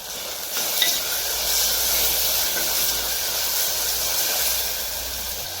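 Coriander, garlic and finely chopped tomato fry in a hot pan with cumin and mustard seeds, a steady close hissing sizzle that holds evenly throughout.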